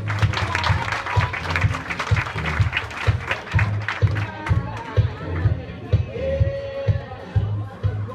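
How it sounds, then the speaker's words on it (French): A crowd at a student-union Oscars-style award ceremony applauds as winners are called up, rhythmic clapping with a steady thumping beat underneath and crowd chatter mixed in throughout. "Un tonnerre d'applaudissements, s'il vous plaît"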